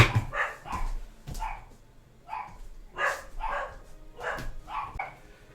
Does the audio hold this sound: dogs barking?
yes